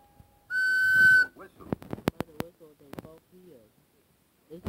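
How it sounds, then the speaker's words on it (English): Loud steam engine whistle in a Thomas the Tank Engine cartoon, a single sustained shrill blast followed by clattering effects and voices talking. "Suddenly, there was a sound of a loud whistle."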